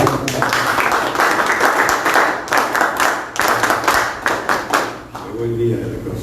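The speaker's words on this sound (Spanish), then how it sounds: "Fuertes palmas para él." Audience applause at the closing of a conference after a special lecture by an ambassador, a dense run of clapping from many hands that fades out, with talk over and after it.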